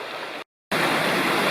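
The Bald River flows calmly through the Bald River Gorge Wilderness, a steady, even rush of water close by with no voices, briefly cut to silence for a moment before resuming.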